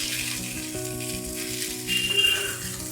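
Pork sizzles and crackles in a hot pan for Goan sorpotel, a steady frying hiss with popping bursts, close by and alone.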